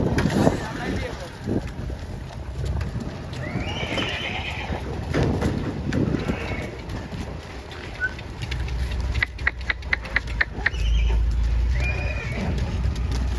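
A three-month-old horse foal whinnies several times in high, wavering calls, with hoof clip-clop and stamping near the end, while voices talk nearby over outdoor background noise.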